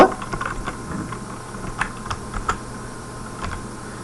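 Typing out a C printf statement on a computer keyboard, with irregular clusters of light, close key clicks and a few sharper taps over a steady low hum.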